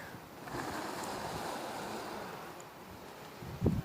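Wind blows steadily outdoors, a broad, soft rushing that buffets the microphone for a few seconds, with a brief louder gust near the end.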